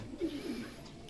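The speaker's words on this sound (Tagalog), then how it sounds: "nandito na yung second bird natin. Second bird, last bird." A racing pigeon arriving back at its loft after a 365 km race gives a short, soft, low coo, close by and fairly quiet, with no talking.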